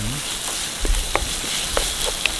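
Onions frying in a pan during an outdoor riverside lunch in the Wicklow mountains, a steady soft sizzle with a few faint clicks of stirring, no talk over it.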